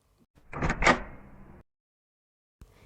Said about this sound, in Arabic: فتح الباب فجأة